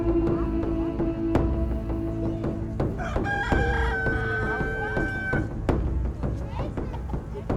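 Native chickens at a zoo in Gossau, St. Gallen, Switzerland cluck repeatedly in short sharp calls, with one rooster crow in the middle, heard close over steady background noise and a voice speaking.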